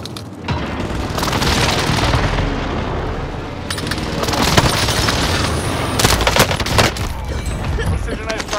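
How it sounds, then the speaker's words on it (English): A precision airstrike in a video game hits as a dense barrage of booming explosions and rapid blasts, loud and continuous, with sharp cracks in the final seconds. "Phoenix 3, strike inbound"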